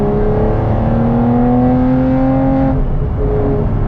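An Aston Martin V12, GT12 or DBS Superleggera, revving hard with a smooth, rising, high-pitched engine note held near and loud for a few seconds, then a sharp lift-off and a dip in revs.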